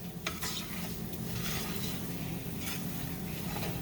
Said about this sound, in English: You want to keep stirring this flour until it's mixed in real well.